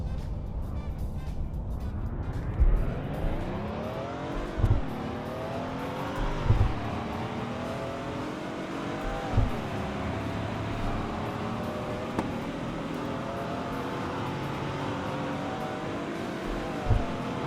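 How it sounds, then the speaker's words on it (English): A big-engined Porsche with a five-speed manual accelerates hard from a launch, its engine note climbing repeatedly through the gears with brief dips at each shift, loud and close throughout. "I'm gonna floor it in 3, 2,"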